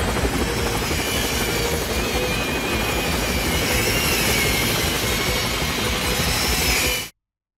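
Helicopter blades in a film scene inside the Channel Tunnel, a loud, continuous roaring wash of rotor and engine noise that holds steady throughout before cutting off abruptly.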